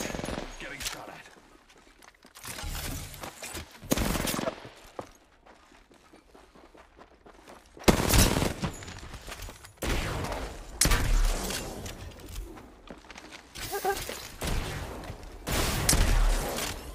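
Bursts of automatic gunfire from the video game Apex Legends come in several sharp, loud volleys separated by quieter gaps, with a player's voice talking between them.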